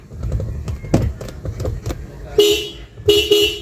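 A Toyota car horn that had been sounding on its own honks twice, short loud blasts late in the clip, over a background of clanking and low rumble.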